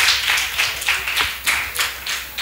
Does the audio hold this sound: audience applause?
yes